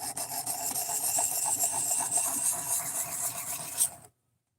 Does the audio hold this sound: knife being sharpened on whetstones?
yes